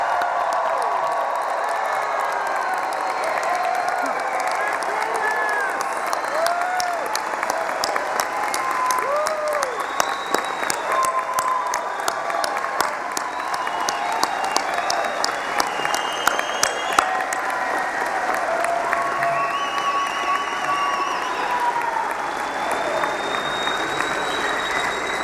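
A large graduation commencement audience in an arena applauds and cheers steadily for the whole stretch, with dense clapping and scattered whoops and shouts rising above the crowd.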